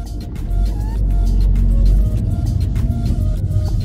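A car driving along a road, heard from inside as a steady, loud engine and road rumble that holds throughout with slight swells, and no talk.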